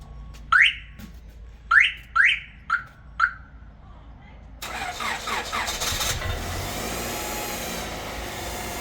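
Five quick alarm chirps ring out, then a car engine boosted by a jump pack cranks, catches and settles into a steady, close idle.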